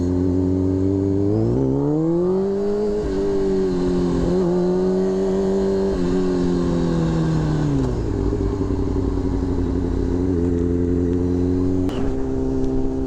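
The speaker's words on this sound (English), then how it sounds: "look at all these cars." Street traffic on a Sunday drive: a steady engine drone with gear changes and revving as vehicles pull away from a light, loud and continuous from inside or beside a car, with a sharp knock near the end.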